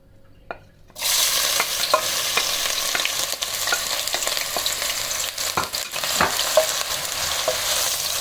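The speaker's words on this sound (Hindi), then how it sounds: "कुकिंग ऑयल यहाँ पे गर्म हो चुका है। अब इसमें प्याज शामिल कर देंगे।" Onions drop into hot cooking oil and a loud, steady sizzle takes over, with occasional stirring scrapes and pops continuing throughout.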